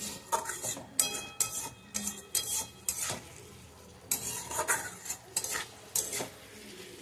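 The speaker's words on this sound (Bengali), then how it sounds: "আমি আলুগুলো কিন্তু সিদ্ধ করিনি, চন্দ্রমুখী আলু তাড়াতাড়ি সিদ্ধ হয়ে যায়। এই মশলার সঙ্গে কষতে কষতে এটা সিদ্ধ হয়ে যাবে।" Chandramukhi potatoes being stirred and fried in spice masala, a spatula repeatedly scraping and knocking against the metal pan in uneven strokes over a soft background sizzle, close and without talk.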